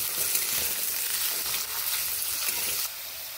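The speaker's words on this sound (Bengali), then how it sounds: "এখানে আমি আলু ও গাজরগুলোকে ভেজে নেব।" Potatoes and carrots fry in hot oil in a wok with a loud, even sizzle and faint stirring scrapes underneath, dipping slightly near the end.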